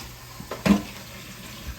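A short pour of water into a pan of flour roux for smothered beef, a brief splashing gush that peaks and fades within about a second, close and fairly quiet.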